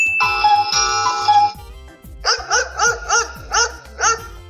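After a ringing electronic tone, a dog barks about six times in a steady rhythm, sharp and close.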